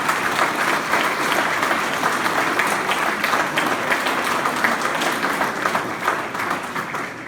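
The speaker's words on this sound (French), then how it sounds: "Alors je crois qu'on peut les applaudir tous." Warm, steady applause fills the room at a New Year's wishes ceremony in Saint-Mammès in January 2023, with many hands clapping at a constant level throughout without a break.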